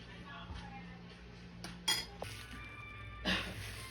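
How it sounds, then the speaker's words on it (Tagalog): Metal utensil clinks and scrapes against a pot while stirring soup ingredients with salt and pepper added, a few sharp chinks among quieter rattles, no talk. "haluin lang natin itong ating mga ingredients"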